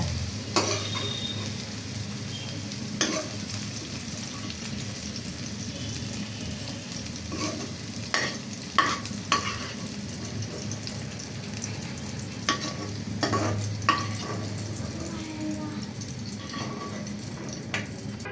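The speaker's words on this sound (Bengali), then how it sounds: "আদা তেল দিতে আছে, চিকেনগুলো ভাজবো।" Chicken pieces fry in hot oil with ginger in a pan, a continuous sizzle broken by occasional scraping stirs and clatter, close and moderately loud, with no talking.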